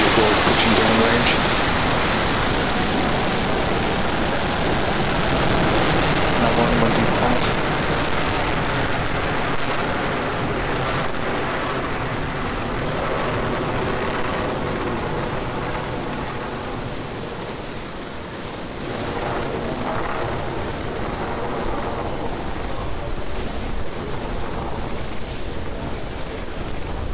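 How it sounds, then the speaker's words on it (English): SpaceX Falcon 9 rocket lifting off on the CRS-20 Dragon cargo mission, a loud, continuous broadband engine roar rumbling for the full stretch, with a commentator's voice talking over it. "Ignition, liftoff."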